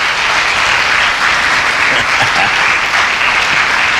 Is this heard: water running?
no